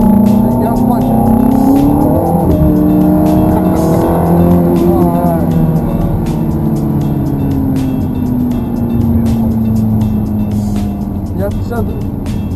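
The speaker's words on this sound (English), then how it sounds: "I'll let you go ahead and get on the gas a little bit. And let this kind of spin around a little bit." A Ferrari F430 on a wet track accelerates hard and fishtails, its engine revving and swooping in pitch with tire hiss and squeal, loud and close, while a voice talks over it.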